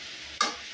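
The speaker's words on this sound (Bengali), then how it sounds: "করলা ভাজিটা করতেছি" Bitter gourd frying in a village kitchen: a low sizzle broken by one sharp scrape of a spatula against the pan, with no one talking.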